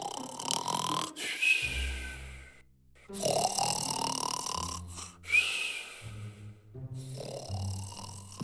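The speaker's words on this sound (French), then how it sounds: "le loup s'endormit et se mit à ronfler" A cartoon wolf in an animated Little Red Riding Hood snores loudly and theatrically, with about three long, rasping inhale-and-grunt cycles separated by short pauses.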